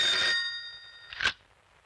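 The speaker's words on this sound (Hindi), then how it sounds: "हेलो, जी हाँ है। आपका फोन है।" A telephone bell rings in a short bright burst, stops, then gives a second brief ring, loud and close with nothing else around it.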